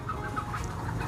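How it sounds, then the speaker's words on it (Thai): A Thai chicken clucks nearby in a short series of rhythmic, moderately loud clucks over faint background noise. "ไก่ไทยเด้นะ"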